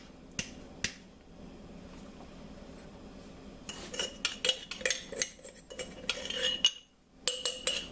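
A utensil scraping and tapping flour out of a glass jar into a pot of butternut soup, a few sharp knocks at first, then a dense run of clinks and scrapes, quiet and close.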